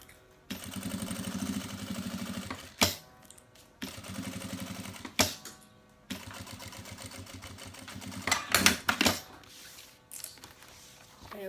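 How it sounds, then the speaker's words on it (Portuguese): A sewing machine runs in long steady bursts as it stitches around a synthetic vaccine cover, pausing between runs with brief clunks and handling noises. "Costuro toda a volta, tá? Aí venho toda a volta."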